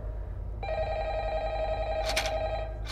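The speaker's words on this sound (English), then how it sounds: "Wow, the old phone call." An old telephone bell rings inside a horror game, one sustained metallic trill that starts after a short silence and carries on steadily over a low background hum.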